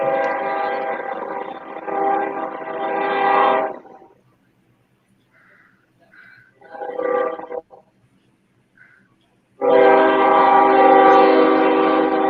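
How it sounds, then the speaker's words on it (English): A passing train sounds its horn in long, loud blasts, with a quieter stretch of faint rumbling and short horn fragments between the two sustained blasts. "There goes Willow's train again"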